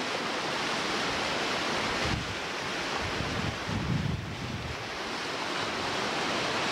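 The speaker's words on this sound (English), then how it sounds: "Just touch this water as it's going over the falls." Water rushing over the brink of Niagara Falls, filmed close to the edge, makes a steady loud roar of broadband rushing noise with wind buffeting the microphone and slight surges throughout.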